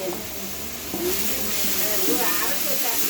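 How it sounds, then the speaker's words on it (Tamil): Small onions for a seeraga samba mutton biryani sizzle and hiss steadily in a hot pan, with a faint background hum running underneath. "இந்த சின்ன வெங்காயம் போட்டதெல்லாம் நல்லா பரட்டிக்கோங்க"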